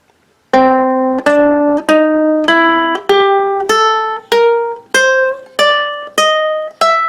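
Ten plucked ukulele notes of a blues scale climb one at a time in a slow, even rhythm, each ringing briefly before the next, played alone and close.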